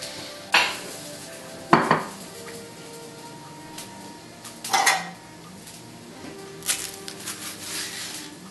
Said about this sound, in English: adding banana, which we should mash up in advance in a smaller bowl